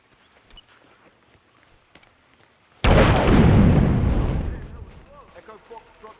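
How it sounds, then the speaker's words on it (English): A single massive explosion in Hitman (2016) erupts suddenly after a few quiet footsteps and faint ambient noise, a loud roaring blast with a long rumbling decay that fades over about two seconds. "All units, be aware of explosions in the area."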